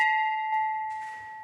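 A temple bell at a Jain temple, rung by worshippers, gives one clear sustained metallic tone that rings out and slowly decays, with a faint secondary tap partway through.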